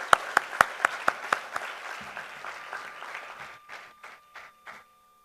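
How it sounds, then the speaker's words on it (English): Audience applause for the accompanying artists at a concert: a burst of sharp claps that thins out and fades to a few scattered claps, with no voices over it. "Let's applaud for all the accompanying artists once more."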